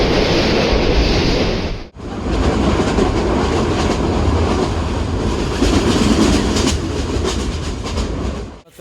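A passenger train runs on rails at Sitakunda, a loud, close, continuous rumble with rhythmic clickety-clack of the wheels that cuts out sharply for a moment and then resumes just as strongly.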